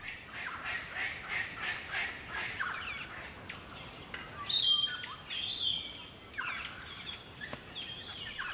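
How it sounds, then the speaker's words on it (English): Wild Australian birds call from fruiting trees, with a steady stream of chirps, squawks and whistles at moderate distance over constant outdoor hiss. "The local birds gather at trees that are fruiting."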